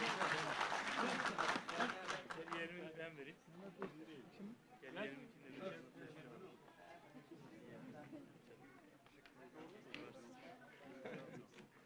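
An audience at a federation congress claps as a guest is invited to the stage, the applause strongest at the start and then fading beneath a speaker's amplified voice and crowd chatter.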